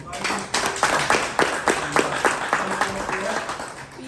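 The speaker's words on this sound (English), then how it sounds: "we want to give them another round of applause and thank you" Applause from a small group at a monthly board of directors meeting, with separate claps rising and falling in an uneven rhythm over a steady murmur of voices talking in the room.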